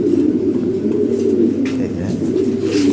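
Lahori Sherazi pigeons of European stock, large, heavy and fit, coo loudly and continuously up close in a steady overlapping throaty drone.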